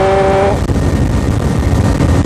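A Suzuki GS 150 SE motorcycle cruises in fifth gear at roughly 115 km/h, its engine a loud, constant roar mixed with rushing wind after a brief higher whine at the start.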